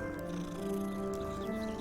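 A cat purrs in a Harry Potter video game, a soft, continuous rumbling purr with a faint tonal hum, quiet and close, with no talking.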